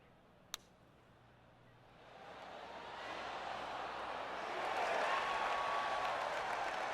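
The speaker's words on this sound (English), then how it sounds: "The crowd loved the approach for the birdie" A virtual gallery at the U.S. Open in PGA Tour 2K25 reacts to an approach shot, its applause swelling from quiet to a full, steady clapping roar after a single sharp click.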